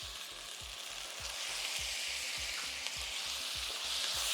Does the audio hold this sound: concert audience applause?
no